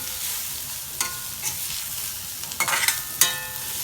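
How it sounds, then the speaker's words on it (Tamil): Onions frying and browning in a pan for a long beans and Maldive fish stir-fry, a constant hiss of oil broken by a few louder stirring scrapes and crackles near the end, close and unaccompanied by voices. "இப்போ பார்த்தீங்கன்னா வெங்காயம் நல்லா ப்ரௌனாக தொடங்கிட்டுது"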